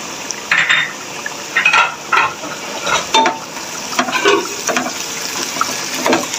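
Ginger and garlic paste sizzles in a frying pan as a spoon stirs and scrapes it, producing irregular close clinks and soft frying hiss.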